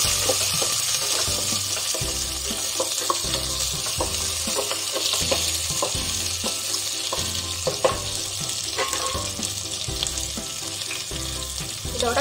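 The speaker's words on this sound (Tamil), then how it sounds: "இப்போ அந்த பச்சை மிளகாயும் வெங்காயத்தையும் சேர்த்துக்கலாம்." Green chilies and onions, added to garlic for fenugreek rice, sizzle steadily in a pan, with regular scraping stir strokes cutting through the frying hiss and no speech.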